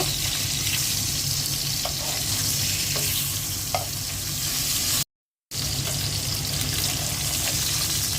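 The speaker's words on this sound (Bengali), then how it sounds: "মাছটা হালকা ভেজে নেব।" Fish frying lightly in a pan with oil, giving a steady, soft sizzle throughout with a few faint clinks; the sound is briefly cut out for a moment partway through.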